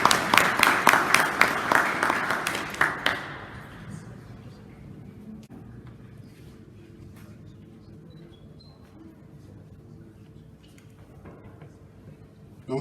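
An indoor student forum audience applauds as an honoured guest comes forward, a dense burst of clapping for about three seconds that then fades into quiet room murmur.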